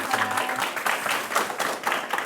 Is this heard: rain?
no